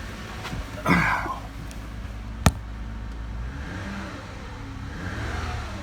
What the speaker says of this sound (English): Don't want to rev her up too high.